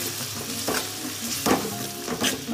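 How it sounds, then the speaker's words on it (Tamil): Ground masala paste with salt sizzles and fries in a hot pan, with intermittent scraping and stirring strokes over the steady crackle. "போட்டு நல்லா வதக்கி விடுங்க"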